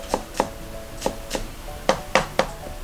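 A kitchen knife chops ginger with its skin on against a cutting board, giving about nine crisp, close knocks in an uneven rhythm with short pauses between strokes.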